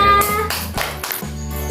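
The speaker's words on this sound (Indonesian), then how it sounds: "beri tepuk tangan semuanya" Children clap their hands in a classroom, a short burst of close, fairly loud clapping with an adult voice briefly heard underneath.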